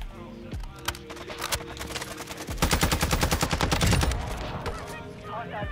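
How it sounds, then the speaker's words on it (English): Rapid automatic gunfire in Warzone 2 crackles in dense, loud bursts, building to a sustained volley mid-clip and trailing into scattered shots, with faint voices underneath. "Oh, I'm getting shot from the back."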